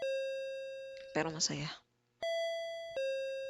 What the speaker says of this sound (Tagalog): Oh, doorbell na naman.